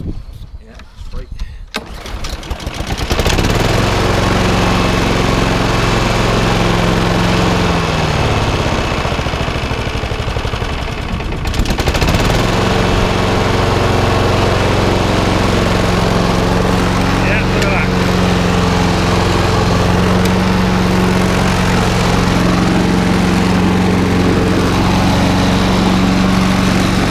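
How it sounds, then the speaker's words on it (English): A Honda HRX 476 lawnmower engine starts after a brief quiet moment and runs steadily and loud, with a short dip in revs midway before settling back into a constant drone. "So this Honda lawnmower is now up and running."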